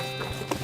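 Horse hooves clip-clopping in the West of Loathing video game, a short run of light steps at steady volume with a brief snort-like accent partway through.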